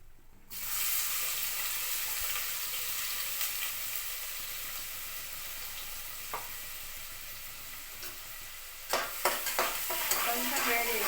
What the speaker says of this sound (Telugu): కొంచెం వేడి అయిన తర్వాత ఈ ఉల్లిపాయలు వేయాలి.